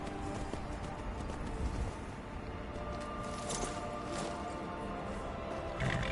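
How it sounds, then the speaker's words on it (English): Horse hooves clip-clopping at a walk in the video game Skyrim, a steady close rhythm of hoofbeats over a faint outdoor ambience. "now that we have a horse here, we're just gonna kind of walk him out here"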